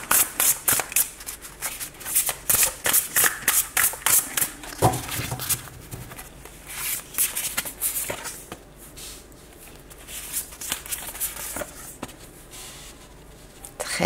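A deck of tarot cards is shuffled in rapid, crisp riffling bursts during the first half, followed by softer, sparser card handling and flicks.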